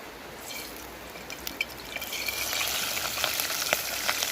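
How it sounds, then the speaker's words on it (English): Crayfish sizzle and crackle as they drop into hot oil in a pot, a steady frying hiss that grows louder and denser after the first couple of seconds, with scattered sharp pops and spits on top. "We're gonna put it in the oil now."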